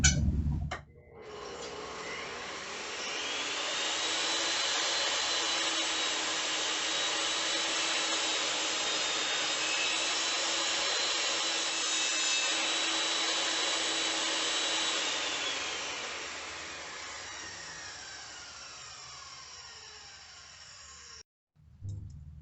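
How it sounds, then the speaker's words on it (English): A saw cuts a wooden piece to length for a Charter Oak dining chair repair, a steady, continuous cutting noise running close and loud for about twenty seconds, starting and stopping abruptly, with no talking. "And now we'll just cut one to length."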